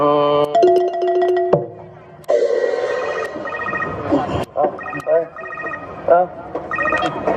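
A telephone rings during a Thai stage play at a school open-house event, with bright repeated electronic ringtone bursts while performers talk over it.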